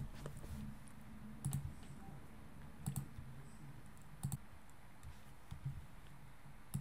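Computer mouse clicks, a handful of sharp, quiet clicks spaced a second or so apart, some in quick pairs, over a low room hum with no talk.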